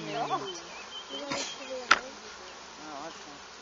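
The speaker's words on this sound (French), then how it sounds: "Il y a des abeilles." A low, wavering buzz of honeybees at an apiary hovers in the background, with a few sharp clicks and faint indistinct voices nearby.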